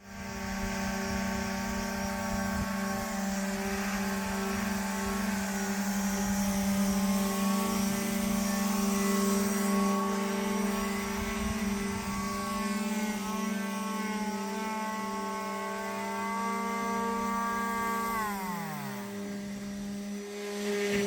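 A helicopter carries a supply load into a remote Alaska site, its engine and rotor giving a steady droning hum with layered tones that swell, hold, then shift in pitch as it moves, with no voices.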